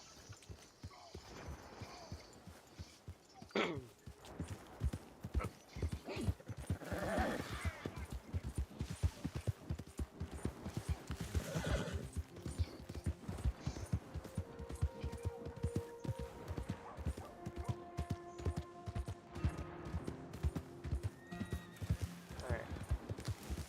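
Horse hooves clip-clop steadily with occasional neighing in the Red Dead Redemption 2 video game, fairly quiet, mixed under someone talking.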